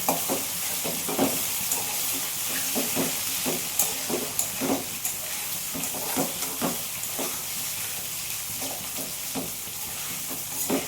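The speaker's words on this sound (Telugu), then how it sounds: "తాలింపు ఎలాగా అవుతుందో అరటికాయ వేయించు" Raw banana slices fry in tempering oil, a steady sizzle and hiss broken by repeated scraping stirs at an uneven rhythm, close and fairly loud with no voices.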